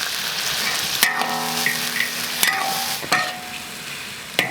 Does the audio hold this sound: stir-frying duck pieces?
yes